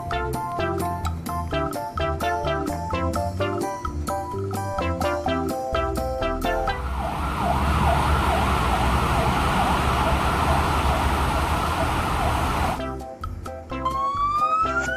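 A toy fire truck's electronic siren, loud and close, plays alone with clicky toy sound effects and chimes before it, then a steady wailing tone that holds for several seconds.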